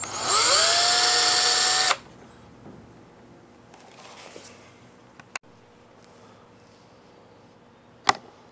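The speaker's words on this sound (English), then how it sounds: "So what you want to do is just drill the centers of them," A loud power drill whines for about two seconds drilling small shallow holes into wood, then stops, leaving quiet room noise with a couple of sharp knocks.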